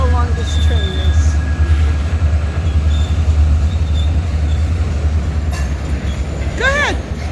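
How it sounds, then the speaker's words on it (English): A long NECR freight train rolls past at night with a steady, loud rumble of cars and wheels, and a brief rising squeal of wheels near the end. "Let's see how long this train is."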